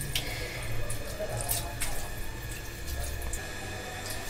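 Cold water running from a tap over boiled chow mein noodles, a continuous splashing gush with a few louder spatters, close and steady.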